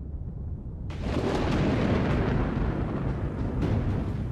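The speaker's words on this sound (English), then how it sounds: "a storm begins to brew." Deep thunder rolls in over open grassland as a storm builds, a broad low rumble swelling after a quiet start and holding steady for several seconds.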